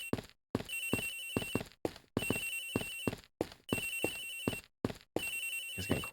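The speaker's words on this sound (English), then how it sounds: "Agent Hicks's phone! It's ringing from somewhere, sir." Electronic phone ringtone from the video game Ace Attorney Investigations, a phone ringing under a sheet, sounding in four repeated bursts with short silent gaps between them, clear and fairly loud with no talking.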